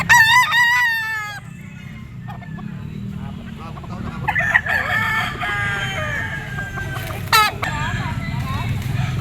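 A green-legged gray bullstag gamefowl rooster crows loudly at the start, with more crowing and clucking from other fowl later, while someone talks over the birds.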